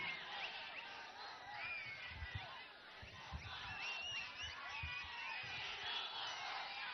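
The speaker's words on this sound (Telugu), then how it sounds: "మీ అరుపులు మీ కేకలు" A crowd at a political rally shouts and cheers, distant and faint, with overlapping yells and whoops rising and falling throughout.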